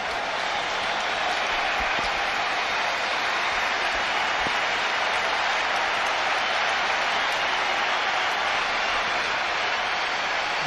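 Steady, dense crowd noise from spectators at a 2002 India versus West Indies cricket Test match in Kolkata, a continuous roar of applause and cheering filling the whole stretch without letup.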